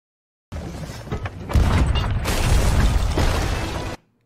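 A cannonball from a Sea of Thieves ship cannon slams into a ship. A few dull knocks come first, then a heavy boom, then a dense crashing rumble that lasts about two seconds before cutting off.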